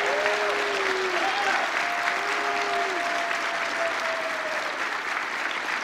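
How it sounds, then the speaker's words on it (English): Audience at a PAX East 2013 DayZ developer panel applauding steadily in a hall, a sustained wash of clapping throughout with a few faint voices and whistles mixed in. "Let's give a round of applause to DayZ."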